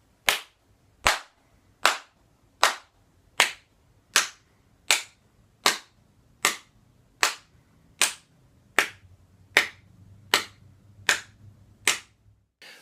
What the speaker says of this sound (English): clap a steady beat, and go ahead and try clapping along with me